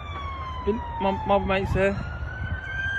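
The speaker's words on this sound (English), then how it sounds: "there's a lot of sirens, a lot of ambulances" A siren wails with a smooth, slowly falling tone over traffic rumble, while someone speaks briefly partway through.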